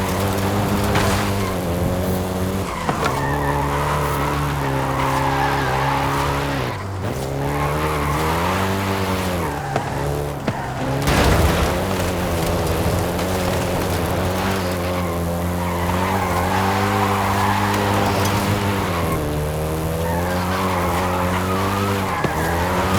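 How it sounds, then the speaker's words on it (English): A Volkswagen Golf GTI in Forza Horizon 5 roars through its gears with rising and falling engine revs, a loud continuous drone broken by shifts, with bursts of tyre squeal and skidding in the middle. "including the Golf GTI you're driving right now"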